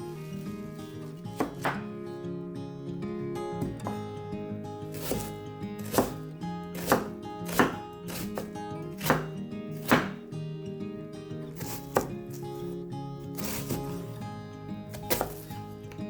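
An onion is chopped with a knife on a cutting board, sharp irregular thunks repeating every second or so, close and clear over a continuous low background hum.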